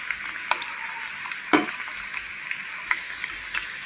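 Chicken pakoras frying in hot oil give a steady, soft sizzle with a few sharper crackles and pops, one louder burst partway through, and no voices.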